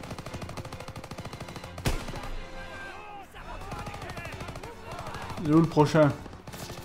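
Gunfire in the World War II shooter Call of Duty WW2, a dense run of rapid shots through most of the stretch with a louder burst near the end, while someone talks over it.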